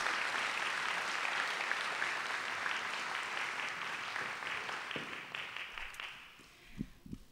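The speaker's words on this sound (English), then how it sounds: "Can we have another round of applause," Audience applause at the Thornton High School 2024 graduation ceremony, a dense, steady clapping from a large crowd that gradually thins and fades out toward the end, leaving a few scattered claps.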